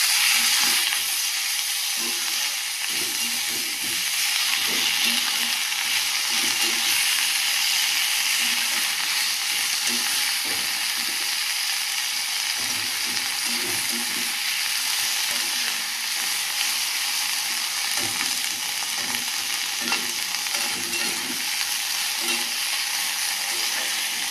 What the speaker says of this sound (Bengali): কড়াইতে রসুন আর পেঁয়াজ দিয়ে দিয়েছি ভাজা ভাজা হয়ে গেছে